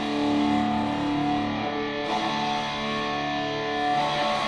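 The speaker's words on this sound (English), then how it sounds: "this is what it sounds like buried in Bracosti reverb of the guitar, specifically the guitar room" Electric guitar chords drenched in a Bracosti reverb on its guitar room setting, a dense, sustained wash of tone with a slightly distorted edge that rings out continuously with no gaps.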